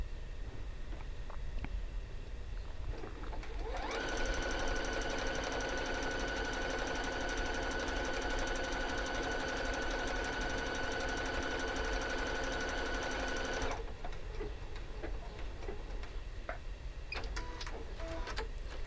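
An EverSewn Sparrow 30S sewing machine runs steadily through decorative stitches for about ten seconds, a close, even mechanical whir with a fast stitching rhythm, framed by quiet handling clicks before and after.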